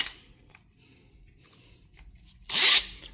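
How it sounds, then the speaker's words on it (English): A power drill fitted with a large titanium bit bites into a storage unit padlock in one brief, loud grinding burst after a quiet stretch of faint scraping. "Use the big one and drill out the entire lock."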